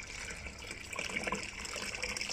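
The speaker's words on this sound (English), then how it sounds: "we're just gonna liquor back with some cold water to drop the temperature straight away" Cold water pours into a brew kettle during an English brown porter brew day, a steady gushing, splashing stream heard close and fairly quiet, with no talking.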